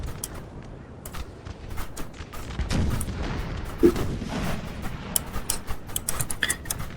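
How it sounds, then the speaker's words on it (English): Artillery shelling in a Napoleon: Total War battle, a rolling stream of distant booms and gunfire cracks that swells midway and stays dense, with no voices. "trying to kind of support some artillery down here, just shelling them"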